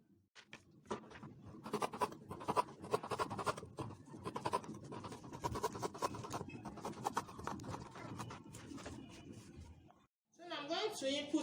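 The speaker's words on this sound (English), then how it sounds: "So I'm going to cut this out now." Scissors cut out fabric for a buba blouse, a close, steady run of scratchy snips and scraping strokes lasting about ten seconds before a brief pause.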